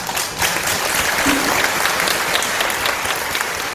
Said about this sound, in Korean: 여러분 큰 박수 한번 주십시오